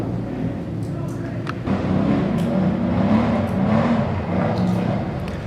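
Motorbikes and quads ride nearby around an abandoned concrete ruin, a steady low engine drone that swells a little louder partway through, with faint clatter over it.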